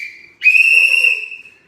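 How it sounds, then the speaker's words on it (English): A single sustained blast of a whistle at a scout archery range, loud and close, holding steadily for over a second after a softer tone. "that was 1 blow of the whistle"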